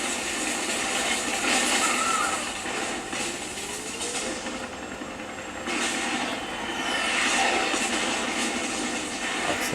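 A helicopter in the video game Rise of the Tomb Raider gives a continuous loud, broad mechanical roar with a whining, rushing texture that swells and dips slightly, and no voices come through.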